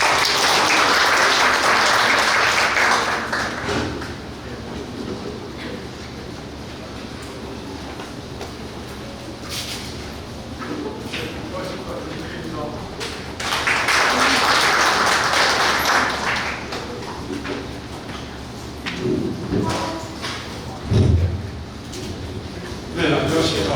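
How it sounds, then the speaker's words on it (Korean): An audience at a regional balanced-development information forum applauds a presenter, with dense sustained clapping that swells at the start, dips, then rises again in a second strong burst before tapering off. "큰 박수 부탁드리겠습니다"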